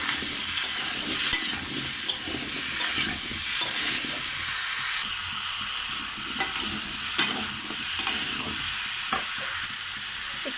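Spices fry hard in a pan with salt and turmeric powder for a Bengali fish curry, giving a continuous hissing sizzle broken by the clanks and scrapes of stirring.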